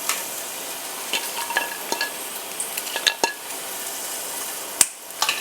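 Bay leaves and red chilies sizzling in hot oil in a heavy-bottomed pan, a soft steady frying hiss broken by sharp clinks and scrapes of a utensil against the pan, close and fairly quiet.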